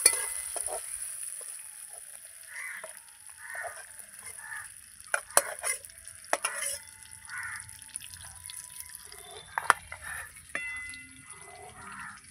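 Fried shrimp being lifted out of hot cooking oil, with a faint, low sizzle under scattered drips and light utensil clicks.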